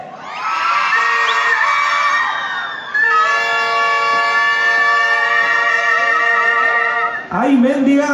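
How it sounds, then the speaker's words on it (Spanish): A crowd of women at a fair with a live band lets out a long, loud sustained shout on cue, a high wavering chorus of voices lasting several seconds, then a brief break and a fresh burst. "a la cuenta de tres, van a gritar las mujeres solteras"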